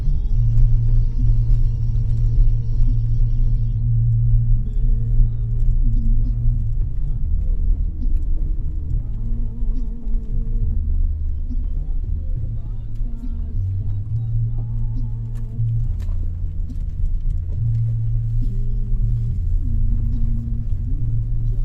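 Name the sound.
automatic car driving on a rough road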